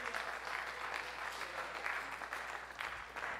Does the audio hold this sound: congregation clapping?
yes